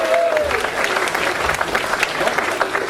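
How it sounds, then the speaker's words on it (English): Comedy club audience at a Geordie comedian's gig cheering and applauding, a dense steady wash of clapping with scattered whoops throughout, filling the room without a break. "Big cheer for Kev."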